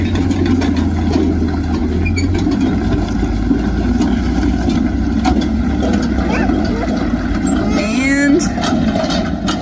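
A vehicle drives across a filled-in mud pit, its engine droning steadily and close for the whole stretch while people talk over it.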